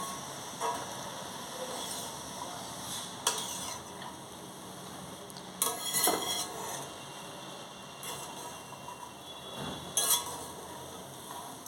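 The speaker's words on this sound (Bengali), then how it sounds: "এবার ভালো করে মিলিয়ে দেওয়ার পালা" Fried water spinach is stirred in a pan with a utensil, giving soft scraping and intermittent clatters of metal against the pan over a quiet sizzle, close and fairly clear.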